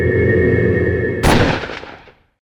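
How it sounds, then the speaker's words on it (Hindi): A single loud gunshot cracks out over a tense music bed in a Hindi TV crime drama, its sharp report ringing and decaying over about a second into silence. "गुस्से में गोली चल गई"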